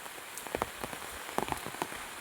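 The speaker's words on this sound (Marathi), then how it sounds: "पाऊस पण खूप आहे" Steady rain pattering on a surface nearby, with scattered louder drops landing in an even, continuous wash.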